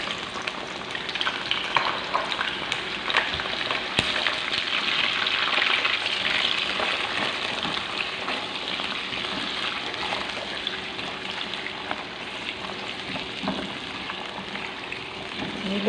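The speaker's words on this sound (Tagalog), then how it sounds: "Niluto po muna natin siya sa olive oil." Carrots and potatoes frying in olive oil for a Filipino beef afritada, a steady close sizzle with stirring scrapes throughout, no talking.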